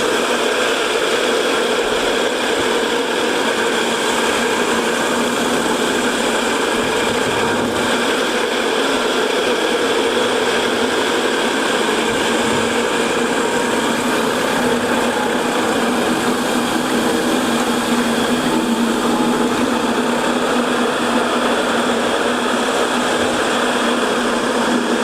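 Floor machine grinding epoxy and glue off a concrete floor with sand spread underneath, giving a constant loud droning whir with a high mechanical whine, unbroken and close throughout.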